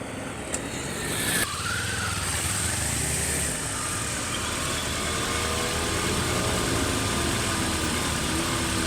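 A car's engine runs steadily on a closed racetrack at Willow Springs as the clutch is eased out, a loud, close, constant drone after a short initial rise, with no talking.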